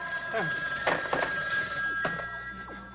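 An old-fashioned telephone bell rings in a few separated bursts over a steady electrical hum, fairly close and clear, with no voices.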